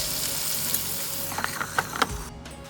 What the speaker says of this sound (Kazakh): Осылай қуырып аламыз балықты.